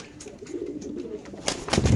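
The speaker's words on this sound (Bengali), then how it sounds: "মাশাল্লাহ, মাক্সি রেসার কবুতর 10 নম্বর খাঁচা ভাই" Caged racer pigeons coo up close in a pigeon farm, soft throaty calls that swell louder toward the end with a few fluttery bursts.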